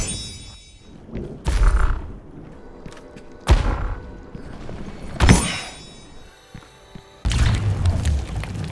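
Several heavy, booming power-up hits in Overwatch land a second or two apart, each a loud thud with a bright burst, over a busy electronic background.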